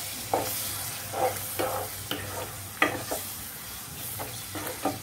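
Chicken keema being sautéed in masala for biryani, a steady close sizzle of frying broken by repeated scraping stirs of a spoon against the pan.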